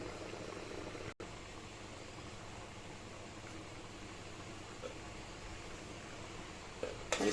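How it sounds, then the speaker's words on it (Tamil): Water boiling in an idli steamer pot on a kitchen stove, a steady, even bubbling hiss that runs without a break, fairly quiet and close, with a brief dropout near the start and no talk. "இட்லி பானையில் தண்ணி கொதிச்சிட்ருக்கு"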